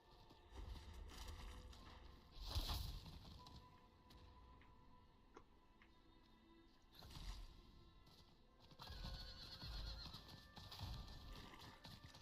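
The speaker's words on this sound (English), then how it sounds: "Lady horse coming through." A horse in the video game Diablo IV neighs with a loud whinny early on, followed by repeated clopping hooves and rushing movement sounds, mixed with game ambience and no clear talk.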